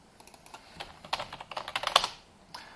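A rapid, uneven run of keystrokes on a computer keyboard, close and fairly crisp, building to a busier flurry near the end before trailing off to a few final taps.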